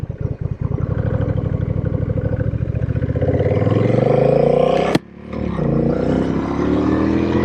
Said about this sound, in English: Just twist the gas and go.